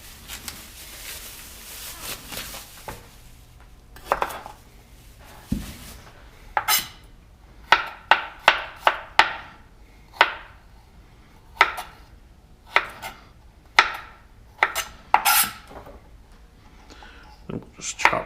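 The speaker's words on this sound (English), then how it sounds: "And we'll just chop this ginger." A knife chops ginger on a cutting board in irregular bursts of sharp, close knocks that speed into quick runs, with a person talking between the cuts.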